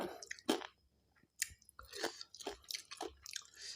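Close, quiet chewing of a spicy Thai pickled mustard-green salad dressed with fermented fish and crab sauce, a run of wet crunchy bites and squishy chews with brief pauses and no talk.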